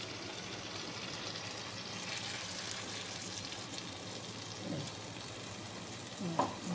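Hot boiling water is poured onto spice masala in a pan for a pabda fish curry, producing a steady close-up hissing sizzle throughout, with a couple of soft clinks near the end.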